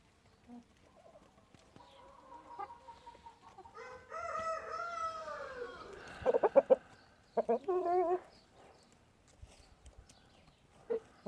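An Orange Brahma rooster crows nearby, a strained, wavering call, followed by a few sharp clucks and squawks from fowl in a quiet coop.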